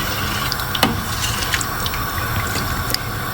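Water poured into a cooking pot of black chickpea curry, a steady wash of running liquid with a few small splashes and drips, fairly close and continuous.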